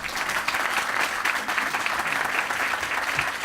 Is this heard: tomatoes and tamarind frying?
no